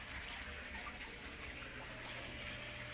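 Water gushes steadily while the water in a fish tank is being changed, a quiet continuous pouring and splashing with no talking.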